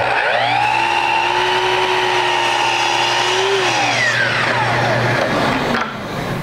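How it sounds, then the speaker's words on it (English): A power saw cuts the second side of a wood piece. Its loud, steady motor whine runs for about four seconds, then winds down, ending with a brief clunk. "Now I'll just take this piece, flip it end for end, and cut the other side."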